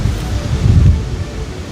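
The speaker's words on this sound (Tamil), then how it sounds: "எல்லாமே அவ்வளோ மோசமாக காற்று அடிச்சு கொண்டிருக்கு" Strong cyclone wind gusts roar and buffet in Jaffna near the sea, a low, loud rushing that swells in the middle and eases slightly, heard alone without speech.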